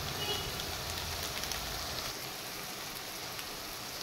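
Onion, green chilli and chilli powders sizzle and fry in a pan, a close, steady crackling hiss that softens slightly toward the end.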